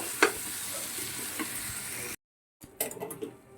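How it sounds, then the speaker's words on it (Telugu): White eggplant fry cooking on a low flame in a pan, giving a steady soft sizzle with a couple of stirring clinks, cutting out briefly before the sizzle resumes with more scraping. "ఇంకసారి మెత్తగా ఉడుకుతున్నాయి కదా వంకాయలు, సిమ్లో పెట్టేసుకుందాం."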